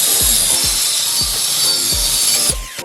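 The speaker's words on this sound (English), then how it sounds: "Then I clamp down my wood to the work table so this will stabilize my cutting." A handsaw cuts plywood clamped to a work table, six or seven rhythmic, even strokes rasping close and loud, ending with a couple of light knocks.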